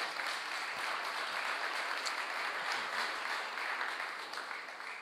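An audience applauding to welcome a guest at a lecture, a steady dense wash of clapping at moderate distance that holds for several seconds and eases slightly at the end.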